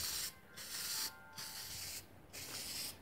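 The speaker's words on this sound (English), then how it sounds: "So first coat, give it a little prep spray" Aerosol spray paint laying a thin prep coat on an engine bay panel for a Knight Rider KITT scanner build, four hissing bursts in a back-and-forth rhythm separated by short pauses, close and fairly quiet.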